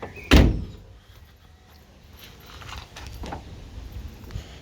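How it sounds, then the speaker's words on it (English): A Renault Kangoo car door shuts with a single loud, close thump near the start, then quieter mechanical clunks and faint handling noise follow. "let's close the door."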